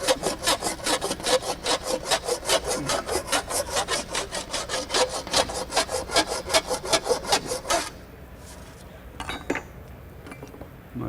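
Rapid, steady rasping strokes of a file on sheet metal, about three per second, close and loud, then stopping abruptly into quiet with a few faint taps.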